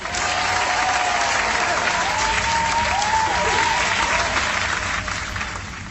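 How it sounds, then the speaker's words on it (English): Sustained applause from a crowd, dense and loud, fills the moment after the Baylor women's basketball team's national championship is announced, holding steady before easing slightly at the end. "Round of applause."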